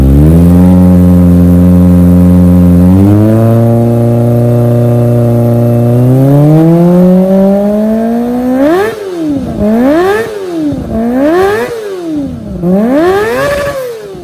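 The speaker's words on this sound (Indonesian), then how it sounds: "Ada juga knalpot yang lembut tapi powernya lebih berisi, kayak Kurs Italian Performance." A motorcycle fitted with a Kurs Italian Performance exhaust idles, then rises in stepped, steady pitch before a series of sharp, rhythmic throttle blips, loud and close with no talking.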